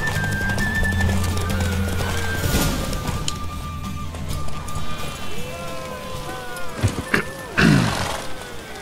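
Horse galloping in a race in The Witcher 3, steady clip-clop hoofbeats with occasional neighs and whinnies, loud and close, over game music with people talking throughout.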